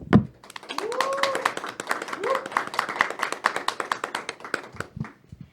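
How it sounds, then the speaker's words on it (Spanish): A small studio group claps in a quick, uneven rhythm after a faith talk show segment, with voices calling out and talking over the clapping until it fades. "despedimos así esta temática con un fuerte aplauso"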